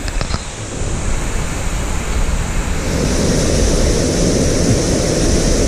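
Loud, steady roar of rushing water at Tumagiti Falls in Bicol, thickening and growing heavier partway through, continuous and close, with no voices.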